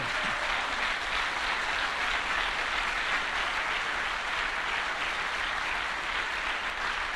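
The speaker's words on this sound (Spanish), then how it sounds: "Dele un aplauso fuerte a Él." A church congregation bursts into loud, sustained applause, a dense wash of many hands clapping steadily throughout with no voices standing out.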